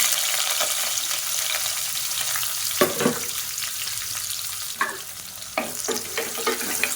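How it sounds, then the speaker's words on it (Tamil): Long-sliced large onion frying in a pan with fennel seeds and spices for green peas rice, a steady close sizzle broken by several stirring scrapes. "இப்போ இதில் மீடியம் சைஸாக ஒரு பெரிய வெங்காயம் நீளமாக நறுக்கினதை சேர்த்துக்கலாம்."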